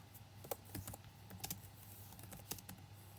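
Keystrokes on a computer keyboard while a command is entered for a Minecraft redstone setup: a quiet, irregular run of light clicks and taps over a steady low hum, with no voices.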